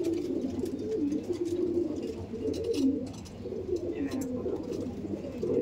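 Low, rolling pigeon coos run continuously through the clip, a steady murmur of several birds close by with faint background noise.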